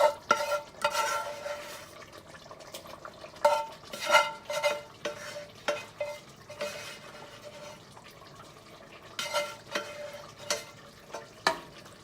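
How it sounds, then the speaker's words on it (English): Fried masala being stirred into a pot of Bangalore donne biryani after pressure cooking, a steady series of scraping, clinking stirs against the metal pot with soft wet sizzling, close and moderately loud, no voices. "Now I'm going to add the masala that I had fried into this."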